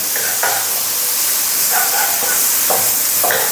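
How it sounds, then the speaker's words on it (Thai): Red chili and garlic stir-frying in hot lard at high heat, a loud constant sizzle and hiss with occasional scraping strokes of a spatula in the pan, close up. "ขั้นตอนแรกก็ใส่น้ำมันหมูลงไป พริกแดงจินดากระเทียม ผัดให้หอมนะครับ"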